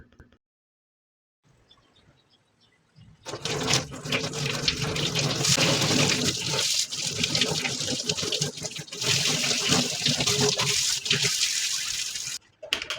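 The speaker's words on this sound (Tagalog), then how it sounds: "When cleaning the squid, wash it in the running water." Squid being washed under a running kitchen tap, steady loud splashing water gushing from the faucet after a brief quiet start, continuing until it stops near the end, with no speech.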